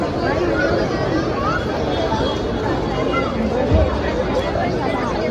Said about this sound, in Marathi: खूप म्हणजे खूप हेवी गर्दी आहे